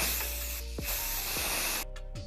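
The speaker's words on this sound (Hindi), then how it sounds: "और आप इस कैन में बची हुई गैस की आवाज़ को सुन सकते हो।" Leftover gas hisses out of an empty spray paint can in loud, sustained bursts, cutting off briefly between sprays and ending with a few short puffs.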